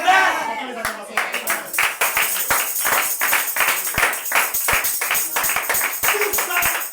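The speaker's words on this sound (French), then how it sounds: "Les acclamations." A church congregation claps and cheers, with many sharp, fairly steady handclaps ringing out over a broad crowd roar that continues for the whole stretch at a loud, close level.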